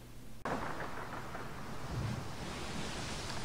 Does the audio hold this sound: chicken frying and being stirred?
no